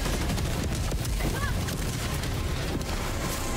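Airstrike explosions in Helldivers 2, a dense and loud wash of rumbling blasts and booms that continues without a break, with a voice briefly speaking over it.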